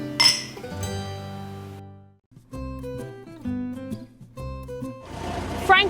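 Wine glasses holding Pinot Noir clink together in a toast, ringing bright and close, with several sharp taps followed by lingering tones.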